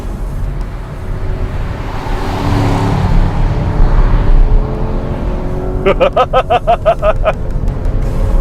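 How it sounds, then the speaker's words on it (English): A Camaro SS muscle car engine roars and builds in a deep rumble, then a burst of rapid pulsing revs near the end, loud and close. "With an engine note like this, you really want to wrestle it around."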